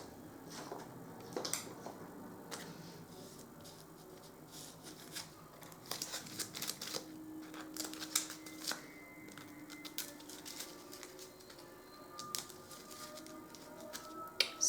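Board game cards are shuffled and handled on a table in quiet, scattered bursts of soft riffles, flicks and taps spread across the stretch, with no one speaking.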